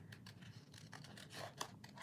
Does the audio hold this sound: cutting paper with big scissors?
yes